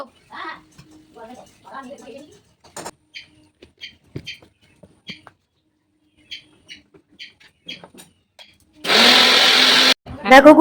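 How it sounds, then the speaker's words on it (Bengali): Someone talks in short phrases with clinks and taps between them, and then an electric mixer grinder loudly whirs for about a second as it grinds ginger and cumin before cutting off. "আদা জিরেটা মিক্সিতে বেটে নিচ্ছি"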